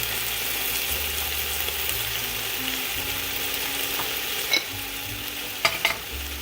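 A spoon stirs Goya Sazon and black pepper into a semi-veggie goulash, a soft steady sizzle under rhythmic scraping with a few sharp clinks against the pot.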